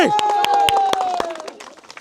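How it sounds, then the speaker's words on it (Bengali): An audience at a comic football game claps in a quick, fairly even rhythm that thins and fades over two seconds, while a loud voice carries on over the claps. "দর্শক মণ্ডলী, এটা করতালি দেয়, করতালি"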